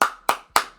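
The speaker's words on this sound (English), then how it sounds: "Clap it up for that." Hands clapping, four sharp, evenly spaced claps in quick succession, close and loud with no other sound between them.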